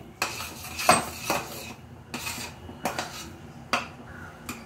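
A ladle scrapes and clinks against a pan while puranpoli filling is stirred: irregular metallic knocks and scrapes, close and moderately loud, with no voices.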